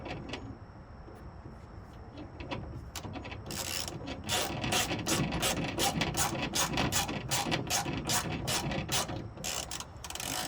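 A ratchet tightens a Torx bolt on a Ram pickup's tailgate assist plate, giving a close, rapid run of sharp clicking strokes that speed up and continue steadily over a low background hum.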